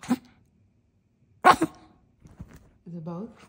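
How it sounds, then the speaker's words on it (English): A dog gives a couple of sharp, sneezy coughs and a short bark, separated by quiet pauses, followed by a person speaking briefly. "Are you barking? You coughing."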